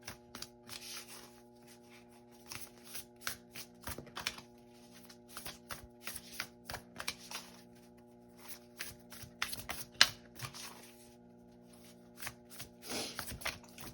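Oracle cards being shuffled by hand, close and fairly quiet, in repeated riffling bursts with short pauses between them.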